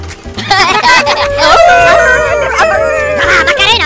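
A dog howls in long wavering tones, fairly close and loud, with a person's voice breaking in now and then.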